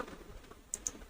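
Two quick, faint mouse clicks close together near the end, with soft room noise before them, made while modeling in SOLIDWORKS.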